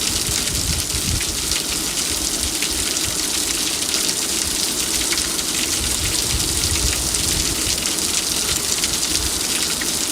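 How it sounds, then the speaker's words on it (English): Heavy rain pours down during a severe storm at East Beach, Hampton Roads, a dense, continuous hiss of rain striking surfaces without a break and with no talk. "The rain is really coming down."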